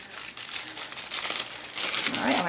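A plastic sandwich bag with its zipper cut off is crinkled while being opened, making quick, crisp rustling bursts that grow busier toward the end, close and fairly loud.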